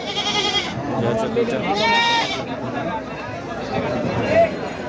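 Goats bleat at the Baneshwar goat market, several close, wavering cries rising over a busy crowd while people talk and haggle nearby.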